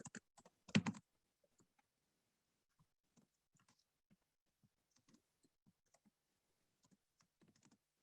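A message is typed into a webinar chat on a computer keyboard, with a quick burst of louder clicks at the start, then sparse, faint, irregular key taps that continue for several seconds with no talk.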